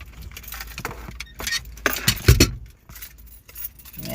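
A bunch of car plug keys jangles and clinks in a rapid, uneven series of metallic rattles. The sound is close and fairly loud, peaks in the middle, and is heard without any talk over it.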